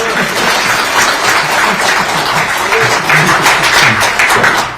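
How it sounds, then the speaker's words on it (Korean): Applause from an audience at the founding event of a citizens' group, a steady dense patter of many hands clapping at close range throughout, with no talk over it. "우리 한번 박인환 변호사님께 응원의 박수를 보내주십시오."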